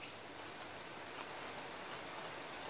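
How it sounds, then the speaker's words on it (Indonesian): Steady rain falls without a break, a dense, even hiss of drops on surfaces, soft and continuous throughout. "Ini hujan nggak berhenti."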